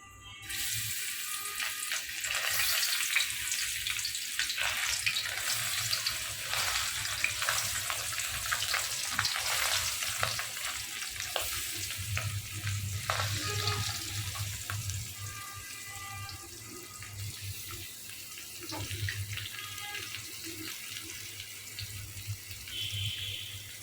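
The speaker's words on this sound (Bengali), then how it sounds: "এখন আমি বেজে নিচ্ছি পুঁটি মাছগুলো" Small pond puti fish, rubbed with turmeric, chili and salt, fry in a pan with a steady, dense crackling hiss that runs close and fairly loud throughout, unbroken by talk.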